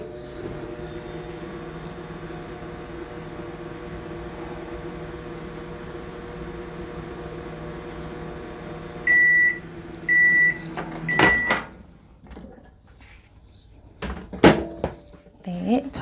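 A microwave oven hums steadily for about nine seconds, then gives three short, bright beeps in quick succession, followed by the clunk of its door and a few handling knocks.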